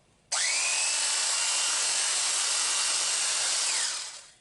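Homemade massage gun built from an old Craftsman jigsaw runs in one continuous, loud, high-pitched mechanical whine. It starts abruptly and holds steady for about four seconds before slowing and winding down, with no talking.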